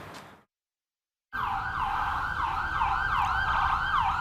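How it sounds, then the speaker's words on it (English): An ambulance siren wails loudly on a city street in Burlington, its rising and falling sweep cycling steadily and close by after a brief moment of silence, with traffic rumble underneath. "We got an ambulance coming down right now, so excuse the noise"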